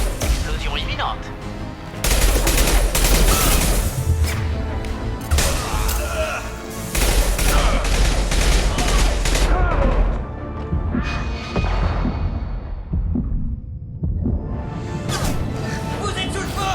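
Gunfire in the video game Mass Effect 2 crackles in loud bursts of rapid shots and impacts, broken by short pauses, with French-language in-game voices calling out between volleys.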